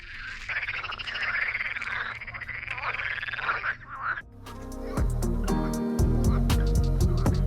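Frogs croak in a dense, steady chorus near a small car park at sunset in Lithuania. About four seconds in, a louder tonal, music-like sound takes over.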